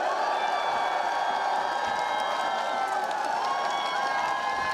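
A large crowd at an outdoor political rally applauds and cheers for four members of parliament, a dense steady wash of clapping and shouting with sustained tones carried over it throughout.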